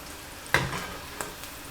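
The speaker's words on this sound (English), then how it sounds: "You fry them quick and hot." Flour-and-salt-dusted calamari frying fast in hot oil, a steady close sizzle with a sharp burst as pieces drop in and a smaller crackle a moment later.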